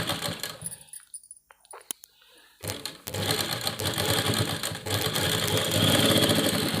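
A sewing machine stitches the lining into a kameez, slowing as the needle runs off the fabric, with a steady mechanical whir that continues for several seconds after a brief quiet gap.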